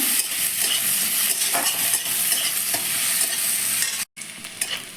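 Continuous close sizzling of chopped onions frying in a pan, with frequent stirring and scraping against the pan, a brief dropout near the end, and no speech.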